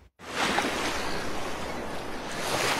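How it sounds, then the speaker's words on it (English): Powerful ocean surf from a big swell pounds steadily at Queensland point breaks, a continuous broadband roar of breaking waves that swells slightly toward the end, heard alone without voices. "Some huge waves and plenty of barrels on the point breaks right through the day."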